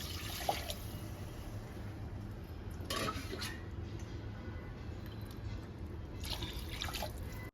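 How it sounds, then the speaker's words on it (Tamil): Water is poured from a tumbler into a cooking pot holding rice, lentils and tomatoes, heard as a few soft splashing pours with dripping between them, quiet and close, and no talk. "இதில் ரெண்டு டம்ளர் தண்ணி ஆட் பண்ணிக்கலாம்"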